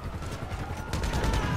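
Gunfire in GTA 5 Online during a chaotic shootout, a dense burst of rapid shots with a heavier volley toward the end, loud and continuous over game noise.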